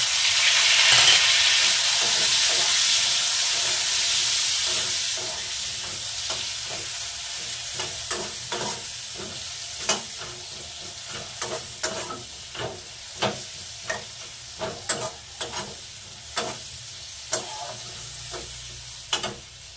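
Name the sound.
masala with onion, chilli, tomato frying and being stirred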